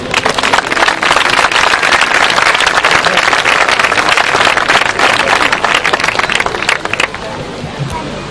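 Outdoor crowd at a havaneres concert in Altafulla applauding a band, loud, dense clapping sustained for several seconds before tapering off into quieter scattered claps near the end.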